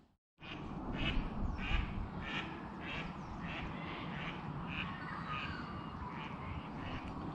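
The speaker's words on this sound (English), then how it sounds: "A black duck had a lot to say." Black duck calling at a lake during a fishing outing, a run of about ten harsh, evenly spaced quacks over steady outdoor ambience, fairly close and clear with no talk.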